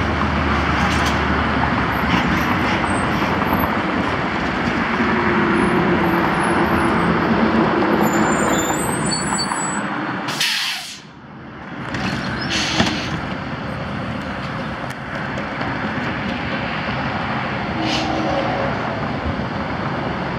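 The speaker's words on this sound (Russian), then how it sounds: "вот подъезжает школьный автобус, который забирает и подвозит детей обратно" A school bus pulls up on a residential street to collect children, its engine rumbling loudly nearby, then a short hiss of air brakes as it stops and the noise dips.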